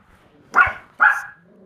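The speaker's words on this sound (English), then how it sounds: "My dogs are seeing something out the window, of course, while I'm trying to record." Two sharp barks close together from indoor dogs reacting to something outside a window, loud and near, with quiet between them.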